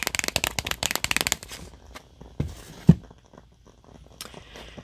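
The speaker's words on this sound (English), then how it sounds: "Today I will be using this tarot deck." A tarot card deck is shuffled up close in a quick burst of crisp riffling flutters, followed by a few scattered taps and soft handling sounds in a quiet room.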